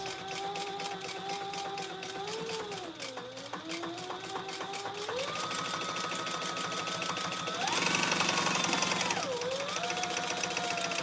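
Close, continuous whir of a sewing machine putting labels onto a trifold wallet at a short stitch length, its motor pitch sliding up and down as the speed changes, with a louder, faster burst late on.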